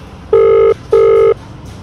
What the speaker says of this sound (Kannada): ಈಗ ಕಾಲ್ ಮಾಡೀನಿ, ರಿಂಗ್ ಆಗತ್ತೈತಿ ನೋಡ್ಬೋದು, ಕೇಳ್ಬೋದು ನೀವು